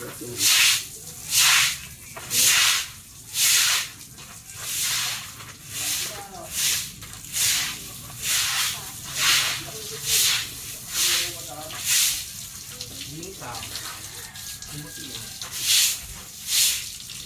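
A cattle pen floor is washed with spraying water, heard as rhythmic bursts of bright hissing spray that come and go about once a second, with people talking faintly in between.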